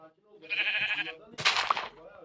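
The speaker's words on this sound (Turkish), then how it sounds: "Koyun" Two sheep bleats in Minecraft follow one another, nasal and wavering, the second harsher and louder, fairly close with a short gap between.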